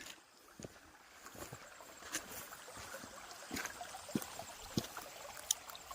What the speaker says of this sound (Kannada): ಜುಳು ಜುಳು ಹೊರುವ ನೀರು